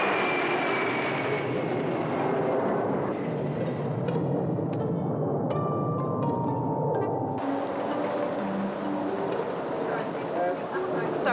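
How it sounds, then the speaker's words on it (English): An airplane passes overhead during an outdoor film shoot, its engine a loud, steady drone whose pitch slowly falls as it goes by. People talk faintly beneath the noise. "can we wait for the plane?"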